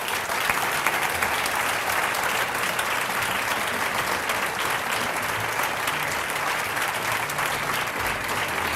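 A crowd applauds steadily at the 2019 Youthfest Changemakers and Courage Awards, an even wash of many hands clapping at a constant level throughout, with no talk over it.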